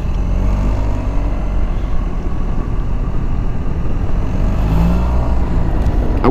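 A Suzuki Burgman 650 scooter accelerates hard on the road, its engine drone loud and continuous for several seconds with steady wind rush.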